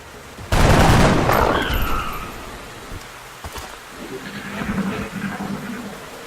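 Gunfire in XCOM: Enemy Within, a sudden loud burst of shots followed by fading rattle and crackling debris, then quieter scattered sounds.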